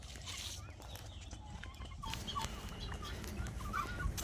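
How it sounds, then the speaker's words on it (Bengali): Birds calling at a turkey farm, faint scattered clucks and chirps over a low rumbling background, fairly distant. "আওয়াজগুলো শুনতে পাচ্ছি, পাখির ডাক শুনতে পাচ্ছি।"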